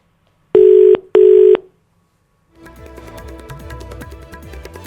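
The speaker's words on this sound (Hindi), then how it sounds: "लगता है चंद्रशेखर से संपर्क नहीं हो पाया है, दोबारा से जुड़ने की कोशिश करेंगे।" Telephone line tones on a failed call to a reporter: two loud, identical steady beeps separated by a short gap, then silence, then a jangly electronic tone pattern that runs to the end.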